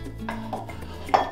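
Chopped garlic cloves tipped into a dish, a few soft clinks and scrapes of the container and knife against it, brief and close, over faint background music.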